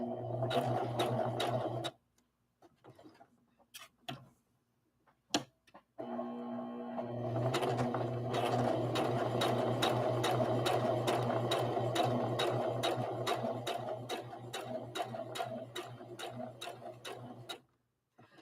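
Sewing machine stitching the tight curves of a rag doll: a brief run of stitching, a pause with scattered clicks, then a long steady stretch of motor hum and rapid needle ticking nearby.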